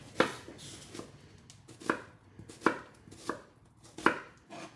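A knife julienne-cuts an onion half laid flat side down, giving about six crisp, close chops at an even, unhurried pace with quiet gaps between strokes and no talking.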